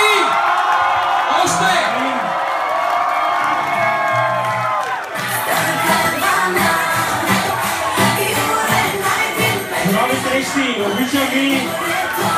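A live show audience at a concert cheers, whoops and shouts loudly and continuously, with voices calling out above a dense crowd roar throughout.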